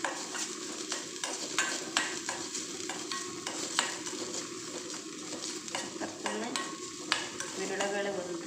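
Coconut filling for masala kozhukatta being stirred and fried in a pan, with steady sizzling under repeated scraping and tapping strokes of a utensil against the pan, close and continuous with no talking.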